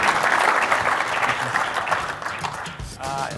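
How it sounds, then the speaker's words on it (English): An audience at a trade show gives a round of applause, a steady wash of many hands clapping that stays fairly loud throughout, briefly dipping before carrying on. "let's give a round of applause to Tony"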